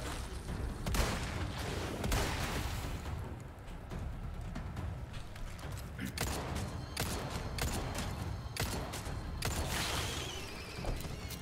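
Dense, continuous video game gunfire, with rapid overlapping shots and bursts rolling on for the whole stretch, loud and near, with heavy booms under the crackle.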